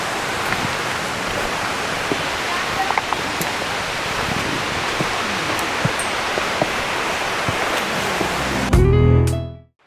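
Rushing water from the Vitello d'Oro waterfall near Farindola in Abruzzo, Italy, gives a loud, steady, broadband roar with no break. A short muffled thump comes just before it cuts off abruptly at the end.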